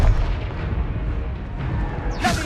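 A Confringo blasting spell detonates in a video game, giving a deep rumbling boom that fades into a low sustained roar, with a brief sharper burst near the end.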